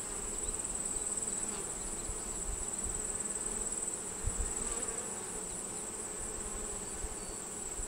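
Honey bees buzz in a steady, dense drone throughout a hive inspection of a colony converted from a 5-frame to a 10-frame hive, close and continuous with no talking.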